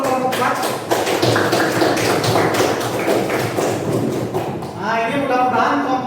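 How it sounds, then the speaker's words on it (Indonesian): An audience applauds a presentation group in a classroom, with dense, rapid clapping throughout and a voice speaking toward the end. "Berikan aplaus untuk kelompok 4."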